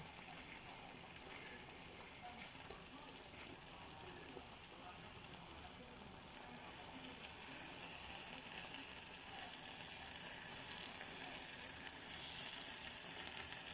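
Slices of bread fry and brown in a pan, giving a soft, even sizzle that swells slightly louder toward the end, close but fairly quiet with no speech.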